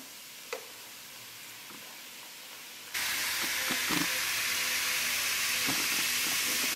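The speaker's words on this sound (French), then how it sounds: "je vais tout simplement mettre du vinaigre pour que ça fasse l'effervescence" Baking soda and vinegar fizzing during household cleaning: after a short quiet stretch a loud, steady hiss of effervescence starts suddenly and continues close up, with faint clicks and no voices.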